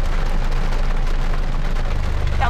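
Rain falls on a campsite at Pha Tat waterfall in Kanchanaburi, Thailand, a steady, fairly loud patter with a low rumble beneath and no talking.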